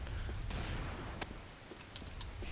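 Gunfire in the Combat Arms shooter game: a dense, continuous rattle of shots with a few sharper bursts standing out, loud and steady across the whole stretch.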